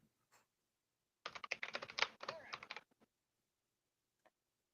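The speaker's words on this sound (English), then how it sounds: "I hear you typing" A quick burst of typing on a computer keyboard, rapid clustered clicks for about a second and a half, close and fairly quiet, with isolated faint taps before and after in an otherwise silent room.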